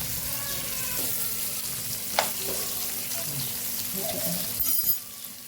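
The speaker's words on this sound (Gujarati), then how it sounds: "મરચાંને સરસ આપણે સાતડી લેવાના છે" Green chillies sautéing in a pan, a steady loud sizzle with a few clinks and scrapes of stirring, close up and uninterrupted by talk.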